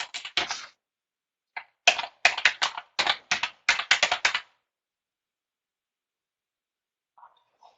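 Bursts of typing on a computer keyboard while an email address is written down, several quick clusters of clicks over about four seconds, fairly close and clear, followed by near silence.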